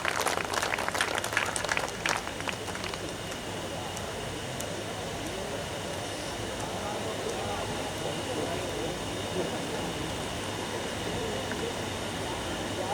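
An audience at a Hindi kavi sammelan bursts into applause to welcome poet Dr. Vishnu Saxena to the stage, a dense, sustained wash of clapping that holds steady for the whole stretch, with a few sharper claps near the start.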